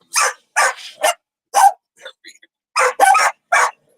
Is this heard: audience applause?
no